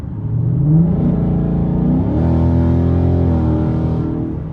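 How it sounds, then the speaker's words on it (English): A 2019 Mustang GT V8 revs under throttle as its 10-speed automatic downshifts from tenth gear, the engine note climbing and holding steady, loud and close inside the car. "I'm going to give it enough gas for it to downshift 6th gear or below."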